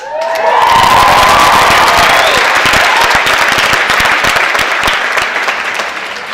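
Loud, sustained applause with some cheering from a large audience at a 2013 college graduation ceremony. It swells quickly, then tapers slightly over several seconds with no talk.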